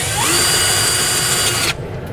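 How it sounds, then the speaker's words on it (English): A power drill bores a hole into the frame of a 2016 truck, its loud, steady whine running for about a second and a half before cutting off. "We'll start with a small one and work our way up until we have a 3/8 hole in both of those locations."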